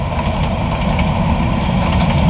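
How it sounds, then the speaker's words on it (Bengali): An intercity train bound for Dhaka passes close by with a loud, continuous rumbling roar and rattling of wheels and carriages, with no voices. "আন্তনগর ট্রেন চলে যাইতেছে ঢাকার উদ্দেশ্যে"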